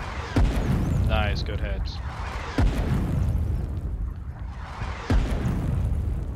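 Artillery firing and shell explosions in the war game Foxhole: three heavy booms about two and a half seconds apart, loud and close, with voices talking over the barrage.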